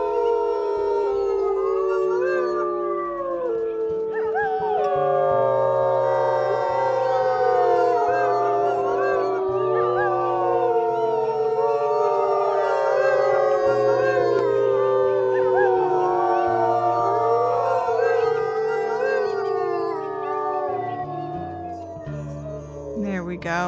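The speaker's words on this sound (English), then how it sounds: "they are howling over probably from that direction" Wolves in the Wildfire Pack video game howl as a loud overlapping chorus, many long rising and falling howls layered together, with a low droning game soundtrack underneath throughout.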